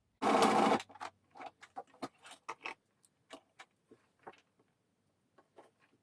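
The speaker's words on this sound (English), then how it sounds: "sew right in that shoulder seam through all the layers" A domestic sewing machine stitches a T-shirt shoulder seam through several layers of knit fabric and facing: one loud continuous run at the start, then scattered short ticks and clicks as the work is handled, close and quiet otherwise.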